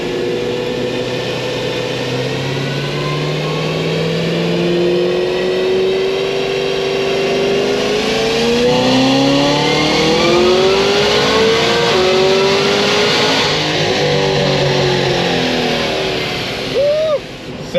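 A Stage 4 Cadillac CTS-V accelerates hard with its engine roaring loud and close, pitch climbing steadily before dropping at each automatic upshift and rising again.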